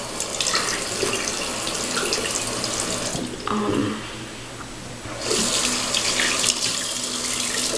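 Tap water runs steadily into a sink while a paint brush is rinsed clean, a loud continuous splashing rush close by, shifting briefly in the middle as the flow changes.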